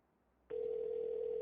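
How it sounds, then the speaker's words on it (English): A steady telephone dial tone starts abruptly and holds on one clean, even pitch against quiet background. "Oh my god, a dial tone."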